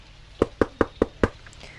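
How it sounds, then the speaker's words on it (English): A second round of knocking on a house door from the porch, five crisp raps in steady rhythm followed by quiet, close and without any voices. "I knock on the door again, and no one answers."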